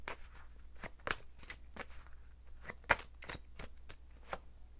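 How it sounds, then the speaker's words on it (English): A Victorian flower oracle card deck being shuffled by hand, a series of crisp riffling bursts and soft slaps repeating in quick rhythm, close and fairly quiet, with no talking. "So let's go ahead and shuffle up my Victorian flower oracle."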